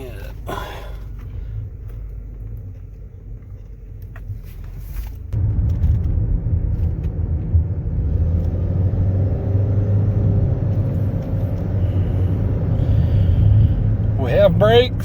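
A Nissan Altima with freshly changed brakes pulls out of a driveway, its engine idling softly before rising into a steady, louder low rumble as the car rolls away, with a brief voice at the very end.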